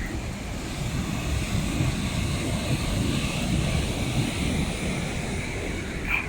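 A river rushes along the Mist Trail in Yosemite, a steady broadband roar of moving water that holds evenly throughout with no pauses and no voices.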